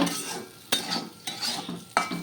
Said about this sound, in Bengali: আর এপাশে উচ্ছে ভাজা বসিয়েছি